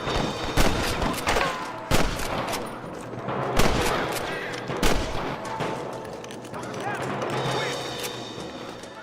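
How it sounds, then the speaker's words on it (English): Rapid gunfire exchange in Red Dead Redemption, sharp cracking shots in irregular bursts and volleys, some close and loud and others farther off, over a busy game background. "Good shooting, boy!"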